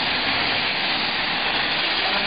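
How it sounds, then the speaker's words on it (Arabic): A steam car wash machine blows a continuous, loud, steady jet of steam that hisses without a break, with no voices over it. "يلا شغل بخار، شغل بخار"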